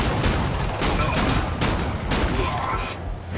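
Rapid gunfire in Killing Floor 2 crackles in dense, loud bursts with only brief gaps, close up and continuous, while people talk faintly beneath it.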